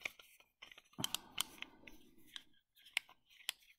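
A metal bolt shroud on a Remington 700 rifle is screwed onto the firing pin assembly, faint close ticks and clicks with a short grinding scrape in the middle.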